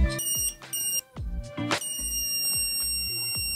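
A USB multitester's continuity buzzer sounding through its probes, giving a series of short sharp electronic beeps, some clipped and irregular, then a steady high tone, close up with no talking.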